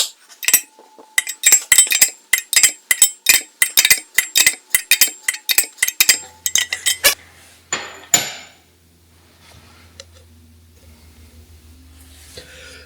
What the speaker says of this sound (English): I'm using an 1 5/16 3/4 drive socket to push the seal in all the way so that it's tight against the axle guide.